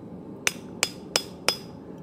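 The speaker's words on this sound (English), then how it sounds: "some of you may have noticed I'm using a curved slitting chisel" Four sharp metallic hammer strikes on a curved slitting chisel driven into angle iron, evenly spaced about a third of a second apart, each with a short ringing tail, close and clear over low shop hum.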